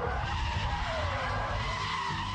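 Car tyres squeal and skid through a handbrake drift on a wide runway-like surface at around 70 mph in third gear, a continuous loud screech over engine rumble with the pitch sliding down and back.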